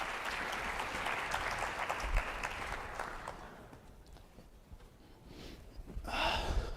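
An audience at a Cleveland State of the City address applauding Mayor Justin Bibb, a sustained patter of many hands clapping that fades and then swells again, heard from a short distance.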